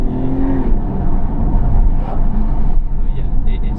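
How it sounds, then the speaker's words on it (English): A 2012 Aston Martin DBS 5.9 V12 Carbon Edition coupé engine revs and roars close up, its pitch rising and falling, with some background noise around it. "when you have the RPMs like going up, the valves open to its absolute full extent"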